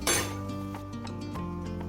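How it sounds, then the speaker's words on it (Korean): A cooking pot is shifted to a bigger pot during kitchen cooking, a sharp metallic clink at the start followed by lighter scraping and knocking of metal cookware, close and fairly loud over steady background music. "자, 냄비를 큰 데다가 옮겼어요."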